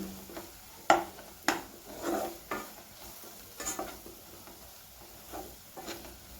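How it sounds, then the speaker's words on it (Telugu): Masala sizzling and being stirred in a pan while making egg fried rice, with a few sharp scrape and clatter hits of a spoon against the pan over a soft steady fry; no talking. "ఇవి కూడా పచ్చివాసన వెళ్ళే వరకు బాగా ఫ్రై చేసుకోవాలి చూడండి ఇలా ఫ్రై చేసుకోవాలి"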